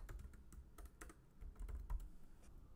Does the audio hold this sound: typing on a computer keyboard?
yes